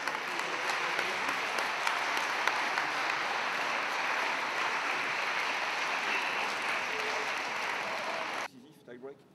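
An audience at a girls' tennis tournament final applauds a player. The clapping is dense and steady for about eight seconds, then breaks off suddenly into a quieter room with faint voices.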